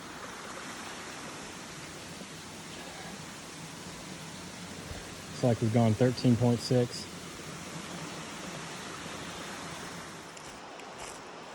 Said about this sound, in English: This whole section, you can hear the Chattooga River flowing strong